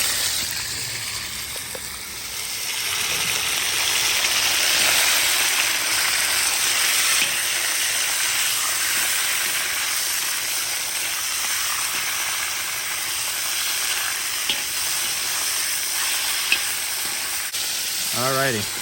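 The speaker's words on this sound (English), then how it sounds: "time to add the meat. We got the oil nice and hot." Beef dropped into hot olive oil in a kazan sizzles loudly and continuously, a dense crackling hiss with bursts of spattering, occasional stirring scrapes and a brief voice near the end.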